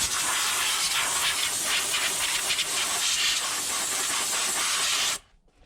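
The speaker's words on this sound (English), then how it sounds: "And then I'll take my air nozzle" An air nozzle blasts compressed air through the screen of a Kubota LX3310 tractor, a loud, close, continuous hiss lasting about five seconds before stopping abruptly.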